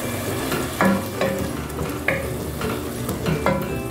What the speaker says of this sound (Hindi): अच्छी तरह से भून लेंगे ताकि ये सारे मसाले जो हैं वो कीमे के अंदर मिक्स हो जाएं।